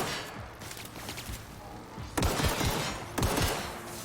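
Gunfire in The Outer Worlds video game, heard as a rolling fusillade of shots with two sharp, loud bursts that break out over a busy stretch of continuous firing.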